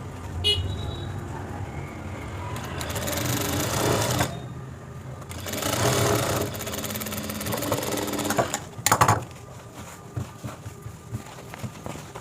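A sewing machine stitches patchwork blouse fabric in bursts of loud, close mechanical whirring, pausing between runs, with someone talking over it.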